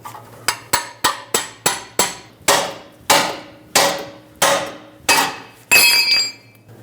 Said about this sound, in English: I'm going to get a pickle fork in here and separate the ball joint from the knuckle